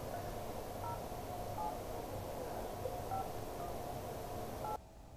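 A mobile phone dialing out for a call, a sequence of faint tones over a steady hiss of line noise before it cuts off abruptly near the end.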